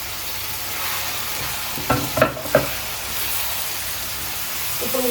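Tomato and cucumber frying in a pan with brinjal, a steady close sizzle broken by a few sharp scraping stirs of the spoon near the middle.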